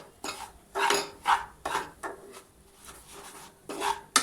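Semolina roasts in ghee in a pan for suji halwa while a spoon stirs and scrapes it in uneven rhythmic strokes, each a short gritty rasp against the metal with quiet pauses between.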